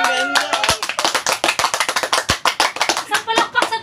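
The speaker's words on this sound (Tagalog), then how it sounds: "Isang palakpak sa Twice!" A quick, irregular burst of hand clapping, close and fairly loud, with sharp slaps coming in rapid succession.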